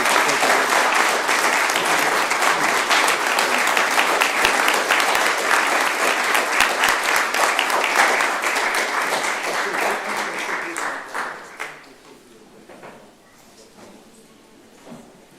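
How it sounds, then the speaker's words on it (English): An audience at a news conference claps loudly and steadily for about eleven seconds, then the applause fades to scattered claps and quiet room noise. "please give Aaron, Omarion, and Mike another round of applause"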